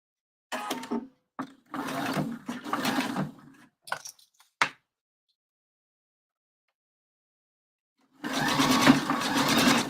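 A sewing machine stitches a fabric circle for a round tailor's pressing ham, running in several short bursts, then falling silent for a few seconds before starting a longer run.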